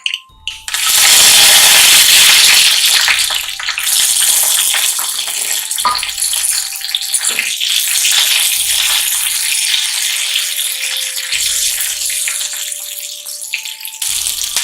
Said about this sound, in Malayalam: നമുക്കിതിലേക്ക് അരിഞ്ഞു വെച്ചിരിക്കുന്ന ചെറിയുള്ളിയും അതുപോലെ തന്നെ വറ്റൽ മുളകും കറിവേപ്പിലയും കൂടി ചേർത്ത് കൊടുക്കാം